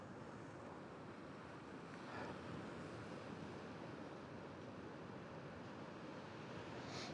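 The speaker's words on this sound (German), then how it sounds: "der Wind, heute ist sehr windig, die Wellen gehen hier ganz schön ab" Waves wash onto a windy coast in a faint, continuous surf roar, with gusty wind noise hitting the microphone. No voices are heard.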